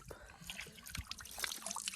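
Cold stream water splashes and trickles as someone washes their face at the bank, soft irregular splashes and dribbles close by at low level.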